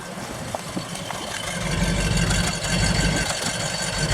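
A Ford Ranchero with 49,000 original miles idles nearby, its steady low rumble thickening and growing slightly louder partway through, with a couple of faint clicks early on.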